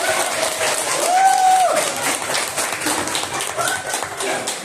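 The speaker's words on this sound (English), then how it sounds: "let's give applause for other candidates" Applause from a small gathering for the candidates at an informal election, steady and fairly close, with a brief whistle-like tone near the start and some murmuring voices under the clapping.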